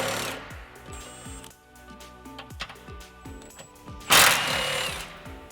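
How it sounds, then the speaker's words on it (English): A ratchet with a 13mm socket clicks through a run of sharp, rhythmic strokes while loosening the crossmember-to-fuel-skid bolts on a Jeep Wrangler JLU 4xe. A louder, harsher metallic burst comes near the end, close up. "Using a 13mm socket, remove the 2 bolts holding the crossmember to the fuel skid."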